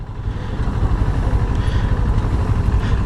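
A CF Moto 650 NK BS6 motorcycle engine on a test ride, a steady low droning rumble mixed with wind noise, loud and close throughout with no talk.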